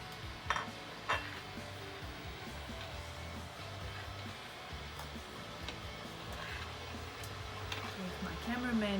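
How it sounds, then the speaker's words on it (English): A spoon stirs chicken and corn soup in a pot, making quiet scraping and clinking sounds with a couple of sharper knocks early on and light background hum. "And we stir it again."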